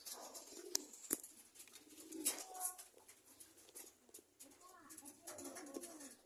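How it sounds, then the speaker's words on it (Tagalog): Soft dove-like cooing rises a few times from a bird with an eye cold over a noisy outdoor background, with faint chirps and a murmur of voices in the distance. "Check lang po natin yung ibon na sinubuan natin ng Nice One capsule ni Boss Derek ng 10 p.m. kagabi."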